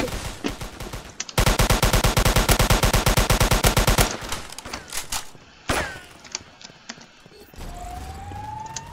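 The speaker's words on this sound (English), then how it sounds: "Someone's using a sniper." Rapid bursts of gunfire from a video game crack out close and loud in a fast rhythmic string, followed by scattered single shots and a rising whine.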